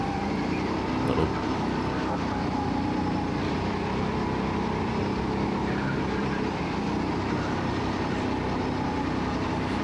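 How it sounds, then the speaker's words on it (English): A car cornering hard at the Xtreme Zone track gives a steady, loud broadband roar of engine and tire noise throughout, with no sharp squeal standing out and no voices. "If you listen to the tire, you'll see that it's not very loud."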